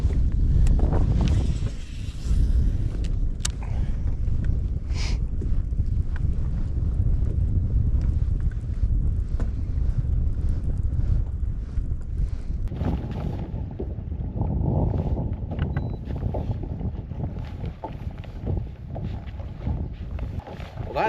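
Cold wind gusts across a bass fishing boat on open water, buffeting the microphone with a constant low rumble that eases slightly later on.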